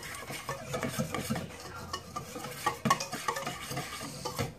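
Chocolate batter being mixed by hand, a busy rhythm of close wet stirring and scraping strokes against the bowl with occasional clinks, no talk.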